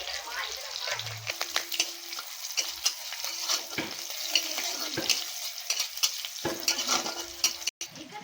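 Black cumin and whole cumin seeds hitting hot oil in a pan, a close crackling sizzle broken by sharp stirring clicks and scrapes, with a faint voice briefly in the background.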